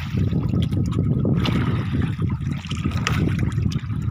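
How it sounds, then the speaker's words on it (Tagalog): Sea waves slap and splash over the side into a small fishing boat out at sea on a lobster-catching trip, a steady, close, loud wash of churning water with no talk. "Tumatalsik dito sa loob ng bangka yung alon o yung kalakataw."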